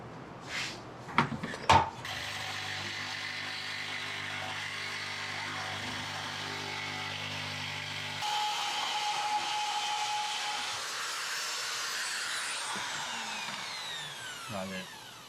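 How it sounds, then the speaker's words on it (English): After a few sharp clicks, a power grinder runs steadily against a steel blade to thin its back, a sustained close whine with a slight shift in tone partway through. "So I'm going to grind the back of it off, make it a little thinner."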